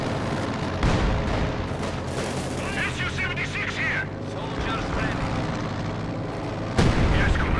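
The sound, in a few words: SU-76 self-propelled gun bombarding, from video game Company of Heroes 2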